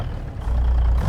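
Truck engine over-revving in American Truck Simulator while hauling a pneumatic tanker, a loud low engine roar that swells and holds, no talk.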